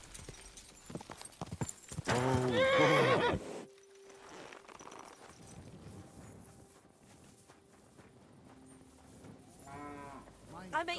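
A horse in the video game Kingdom Come: Deliverance 2 neighs loudly, then hooves clip-clop at a steady pace, with a second whinny rising near the end.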